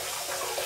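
Hot water runs steadily from a sink tap before a shave, a continuous close splashing rush with no talk over it.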